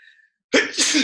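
After a brief pause, one loud, close sneeze erupts in a forceful two-part burst.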